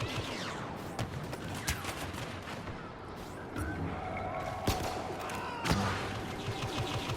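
Blaster gunfire in the video game Star Wars Battlefront crackles in scattered sharp bursts and thumps amid a busy, dense battle soundscape, fairly faint overall with no clear talk.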